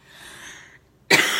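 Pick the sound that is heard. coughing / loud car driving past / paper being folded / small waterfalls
coughing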